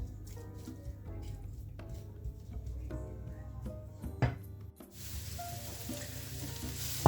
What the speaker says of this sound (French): Je laisse revenir un petit peu mon oignon, donc jusqu'il doit devenir translucide